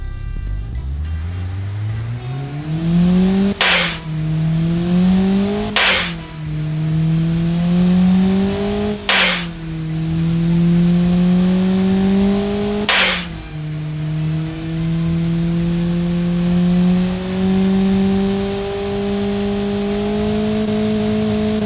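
Simulated Volvo B124FT replica turbocharged engine in a car-building game, revving up through four rising sweeps, each broken by a sharp gear-change cut before climbing again, loud and close with no other sounds.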